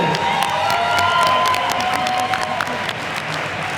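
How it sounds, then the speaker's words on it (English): A dense arena crowd at an amateur MMA event claps and cheers loudly for two youth fighters, the roar holding steady with shouts and whistles before easing slightly toward the end. "a big round of applause for these two youth warriors"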